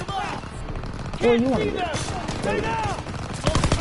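Gunfire in a Call of Duty match strikes the player's character, a mix of shots and bursts sounding under a man's steady, excited talk.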